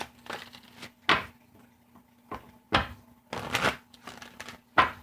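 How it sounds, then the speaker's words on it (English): Tarot cards being shuffled by hand in bursts of riffling and slapping, several separate bouts spread over a few seconds, fairly close and clear with no talking. "Three more shuffles."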